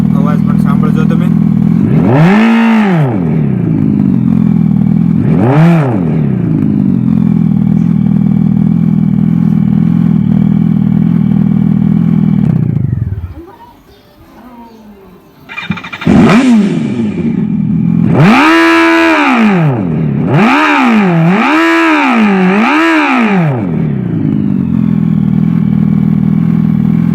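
Artificial engine sound played through the speaker of a Revolt electric motorbike: repeated rising-and-falling synthetic revs in loud bursts, a brief drop to near silence midway, then several quick rev sweeps close by.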